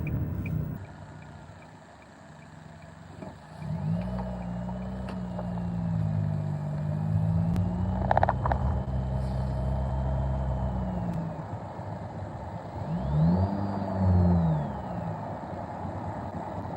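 A car drives along with a steady, low engine drone and road rumble. The engine swells slightly as it accelerates and shifts.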